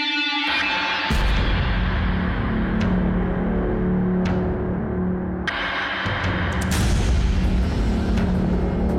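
Several loud gunshots and booming blasts ring out in a televised crime drama, sharp reports at irregular intervals each followed by a lingering rumble, with no talking.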